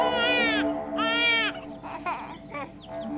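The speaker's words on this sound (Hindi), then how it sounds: "बच्चा रो रहा है यहाँ पे" An infant cries loudly in wailing bursts, with whimpering sobs in between, close to the listener in a room under mosquito netting.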